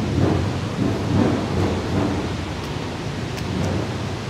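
Steady heavy rain pours down outdoors as a continuous dense hiss with low rumbling undertones, with no talk.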